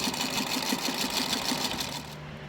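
A sewing machine runs close and steady, stitching an upcycled belt with a fast regular needle rhythm, then slows and stops near the end.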